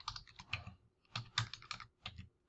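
Keys clatter on a computer keyboard as someone types a course prefix into an online form, bursts of close, crisp clicks in three quick runs separated by brief pauses.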